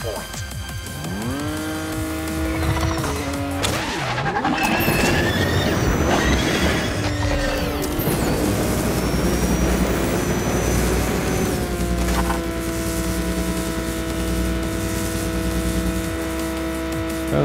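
Toy race cars in Hot Wheels Unleashed on PS5, with engines whining up and down in pitch, crashes and tire squeals amid a busy game soundtrack, all loud and continuous.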